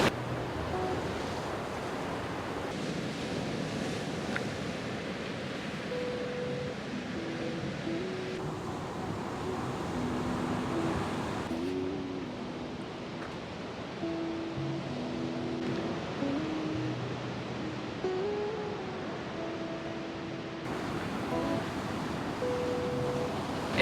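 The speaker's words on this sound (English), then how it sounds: "Back down on the beach now. The tide's going out, so the beach is bigger." Ocean surf washing onto a beach as the tide goes out, a continuous broad roar of waves with wind buffeting the microphone throughout.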